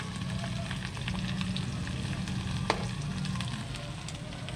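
Tuyo dried fish frying in hot oil, a steady crackling sizzle with scattered sharp pops of splattering over a low continuous hum, close and fairly loud throughout.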